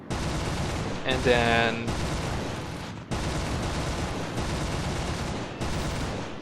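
Guns on an FW190 A-4 fighter plane in the War Thunder sim battle rattle in sustained bursts over a steady engine roar, with brief breaks between volleys; someone talks over the firing.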